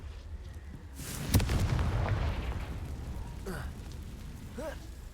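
The Confringo fire spell in Hogwarts Legacy bursts with a sudden loud boom and crackle, then a rumbling tail that fades, with a voice briefly heard.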